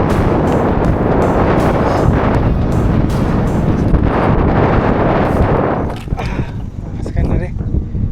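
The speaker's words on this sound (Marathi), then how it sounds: "काय हवा सुटली आहे बघा." Strong wind buffets the microphone on a mountain trek to Kalavantin Durg, a loud, roaring rush in pulsing gusts that eases toward the end as someone speaks underneath.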